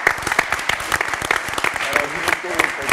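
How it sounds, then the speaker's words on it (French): A studio audience on a TV game show claps steadily for a departing contestant, a sustained even wash of applause at close range with a voice faintly beneath it. "on peut également applaudir pour Régis, bien sûr."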